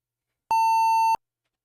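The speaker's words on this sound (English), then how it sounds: "Stop beeping at me." A single steady electronic beep from a computer during MS-DOS 6.22 floppy disk setup, one continuous tone of under a second, clear and alone in silence.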